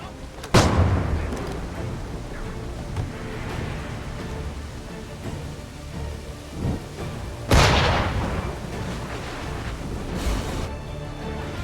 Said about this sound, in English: Snipers! You need to stop them! They're shooting at Faulkner!